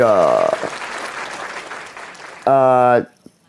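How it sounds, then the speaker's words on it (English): A canned applause sound effect plays from an iOS recording app, a crowd clapping that swells briefly and then fades, with someone speaking just before and after it. "Another default you get A little bit of applause."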